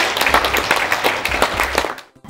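A children's municipal council investiture ceremony in Seclin fills with close, loud applause, dense steady hand clapping from a crowd that ends abruptly in a sudden stop.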